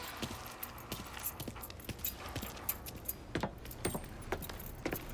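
Car keys jangling in the Mafia III video game, light metallic clinks repeating in an irregular rhythm throughout, up close over a low ambient bed.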